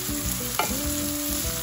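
Diced onion with garlic and chili flakes frying in a pan, a steady sizzle with stirring clatter and a sharp scrape partway through, close and continuous.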